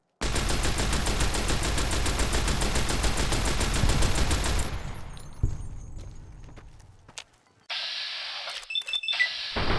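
Rapid sustained automatic gunfire from a shoulder-mounted machine gun in Fallout: New Vegas Lonesome Road, a loud dense stream of shots for several seconds that cuts off into a brief lull, then game sounds and an electronic hum.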